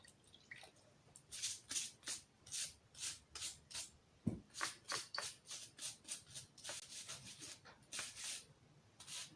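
Water rinses a dirty air compressor head during cleaning, a quiet run of short swishing, splashing bursts repeating in an uneven rhythm, close but faint.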